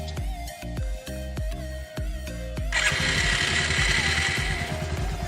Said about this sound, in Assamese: আজি মই আপোনালোকক এই স্মাৰ্টফোনটোৰে এইখন বাইক ষ্টাৰ্ট কৰি দেখুৱাই আছোঁ